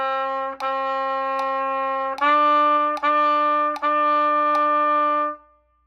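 Trumpet plays phrase 2 of Merrily We Roll Along: a clear run of separate tongued notes with short quarter notes, ending on a longer held note that fades out.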